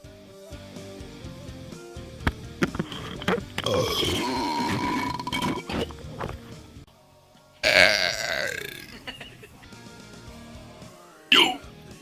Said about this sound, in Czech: To byl krka, ne?